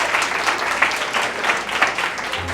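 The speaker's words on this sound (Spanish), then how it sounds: "Si va a aplaudir, aplauda con ganas" A church congregation claps during a Spanish-language sermon, a dense, steady round of applause with a few louder swells, close and without talk.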